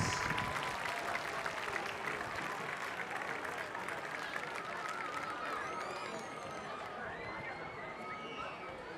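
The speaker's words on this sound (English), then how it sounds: "Let's have a final round of applause for all of our homecoming participants" A crowd at a school homecoming celebration applauds and cheers, a broad steady clatter of clapping with chatter mixed in, fairly distant and gradually easing, with a few high whistles or shouts toward the end.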